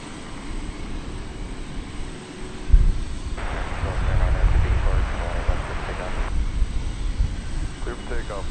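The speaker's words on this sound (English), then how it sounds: "On the Boeing 737-800." An American Airlines Boeing 737-800 jet airliner takes off at DFW Airport, its engine roar building and swelling across the stretch while a voice talks over it at times.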